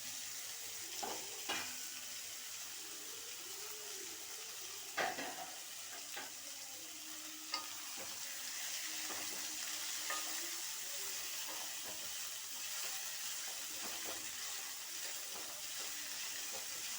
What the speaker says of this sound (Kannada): ನೀವು ಸೀಮೆ ಬದನೆಕಾಯಿ ಕಟ್ ಮಾಡ್ಕೊಂಡಿದ್ವಲ್ಲ ಅದನ್ನು ಈ ಎಣ್ಣೆಯಲ್ಲಿ ಹಾಕೋಣ